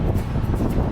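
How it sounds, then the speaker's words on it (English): Steady wind buffeting a microphone, a continuous low rumble with gusty swells and no other clear sounds. "It's windy, but it feels good."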